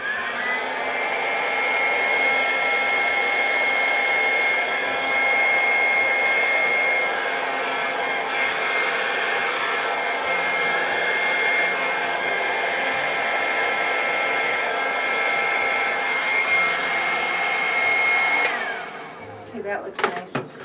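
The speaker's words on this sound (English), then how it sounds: "I'm gonna blow this a little bit because it's just not rolling down." A hair dryer blows air across a marbled Dutch pour acrylic painting, a loud, steady whirring roar that runs close and unbroken for most of the clip before switching off near the end.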